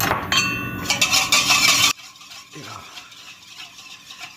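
A spoon stirs milk and melted butter in a bowl for blueberry muffins, a loud scraping, clinking swirl for about two seconds that cuts off abruptly, followed by quieter faint kitchen sounds.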